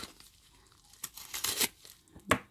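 A small package from an online order of manicure supplies is cut open, with scissors snipping and plastic tearing and crinkling in a few short close bursts.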